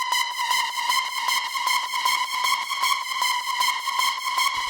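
A harsh, buzzy distorted hard techno synth screech with a bright ringing overtone, pulsing in a fast steady rhythm with no voices.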